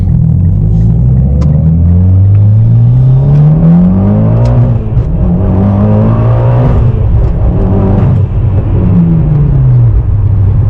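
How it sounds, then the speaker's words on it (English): A car engine revs up and accelerates, its deep rumble rising and falling in pitch as it pulls through the gears, loud and close throughout. "I'm going to give it a little bit of gas, just because I can"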